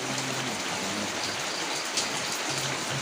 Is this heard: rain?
yes